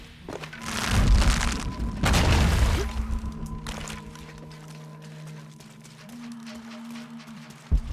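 An explosion goes off in the video game Shadow of the Tomb Raider, with heavy booming bursts and rumbling debris for a couple of seconds, then softer thuds and rattles and a sharp knock at the end.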